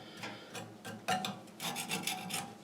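Grease scraped and peeled off a Massey Ferguson GC2300 front end loader into its bucket, a series of close, rough rasping strokes of uneven length with no talking.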